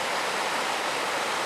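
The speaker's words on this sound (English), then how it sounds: "There's the Jacks River." The Jacks River rushing through a wooded mountain gorge near its waterfall, a steady, even roar of flowing water heard from nearby, with no talking.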